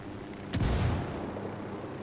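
A grenade explodes in a video game, one sudden muffled boom that rolls off into a fading rumble over a low background hum.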